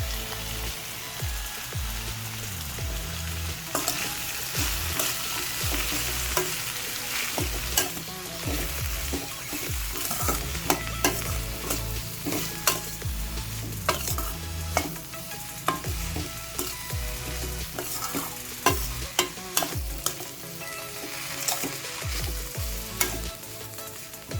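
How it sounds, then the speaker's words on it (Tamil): Bitter gourd sautéing in a pan with salt, chilli powder and masala powder: a continuous close sizzle broken by frequent scraping stirs of a spoon against the pan, with no talking. "ஒரு 10 மினிட்ஸ் நல்லா வதங்க விடலாம்."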